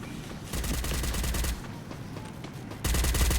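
Bursts of gunfire in a battle royale video game, loud dense volleys in two stretches separated by a quieter gap, with no voices over it.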